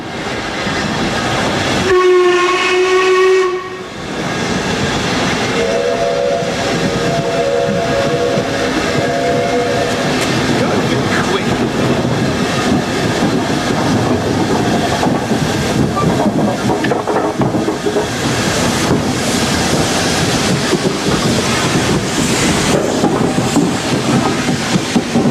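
BR Standard steam locomotive 71000 Duke of Gloucester running, a loud, steady rumble of exhaust and wheels throughout, with a brief whistle-like tonal blast near the start and a short dip before the sound resumes.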